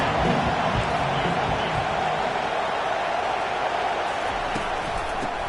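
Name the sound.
football stadium crowd cheering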